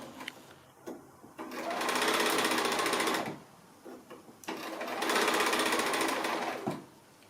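Sewing machine stitching a curved quarter-inch seam on a Drunkard's Path quilt block, running in two steady bursts of a few seconds each with short pauses between, close and clear.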